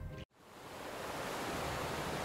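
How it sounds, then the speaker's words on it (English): Distant ocean waves as a steady broadband wash, a continuous even roar with no distinct breakers, preceded by a brief gap of near silence at the start. "See if there's some distant waves. You want like way out there, right?"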